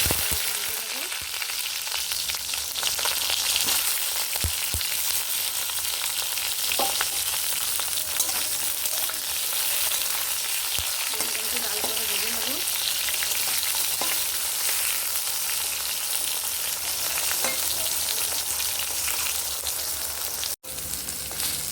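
Eggplant pieces fry steadily in hot oil, giving a continuous, even sizzle with occasional soft stirring clicks and pops throughout, close up and with no talking.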